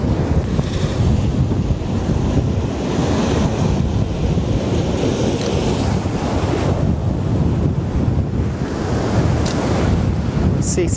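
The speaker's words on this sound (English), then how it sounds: "we have to be a little bit careful of these waves as they're coming up towards us" Ocean waves roll in with the rising tide, a loud continuous surf wash heavily mixed with wind buffeting the microphone, steady and close throughout.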